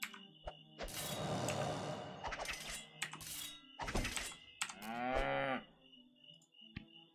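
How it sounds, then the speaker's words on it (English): A cow in the video game Project Gorgon moos in a few long, harmonic bellows mixed with game thunks and brief whooshing effects, loud and up front with no talking. "let's kill the cow."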